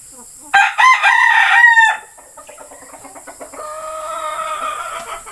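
A Jogod Gray broodcock rooster, a breeding bird from Cavinti, Laguna, lets out a loud, close crow, then follows with a run of softer, rhythmic clucks, alone with no talk.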